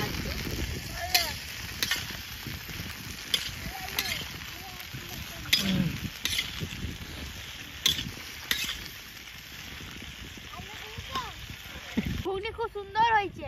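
Cauliflower, carrots and peas frying for chhechra at a family winter picnic, a steady close sizzle with stirring scrapes and clinks, people talking over it throughout.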